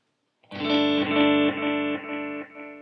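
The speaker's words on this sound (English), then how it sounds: "Then I can add some modulation and see what that sounds like" A sustained electric guitar chord through a Line 6 M13 effects unit with a swirling, wavering modulation effect, played alone and fairly loud, ringing out for a couple of seconds before fading slightly.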